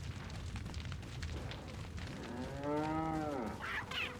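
A cow in the video game Resident Evil 4 gives a single long, low moo that swells and fades near the end, heard over a rumbling game soundscape with no voices.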